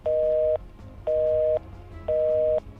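Telephone tone at the end of a call, three evenly spaced half-second beeps of a steady pitch with short pauses between, clear and alone over faint background noise.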